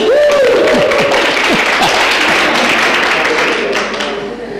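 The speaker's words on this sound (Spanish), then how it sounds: "Pueden aplaudir si quieren." Students in a classroom break into clapping, a dense burst of applause that starts loud and tapers slightly toward the end, with a voice briefly audible at the start.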